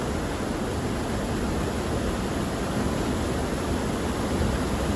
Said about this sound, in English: you can probably hear in the background the thundering sound of roaring water